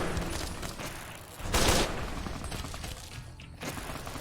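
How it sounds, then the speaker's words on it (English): Grenade explosions in the game Fallout New Vegas, a dense burst of battle noise with a loud blast near the middle over continuous gunfire-like clatter, and a second smaller blast toward the end. "Somebody's throwing grenades."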